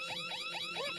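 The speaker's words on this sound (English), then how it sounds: "personal safety alarm I raised." A personal safety alarm shrieking, a loud warbling electronic siren that sweeps up and down in quick repeating cycles, heard close and alone.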